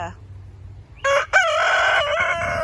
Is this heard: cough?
no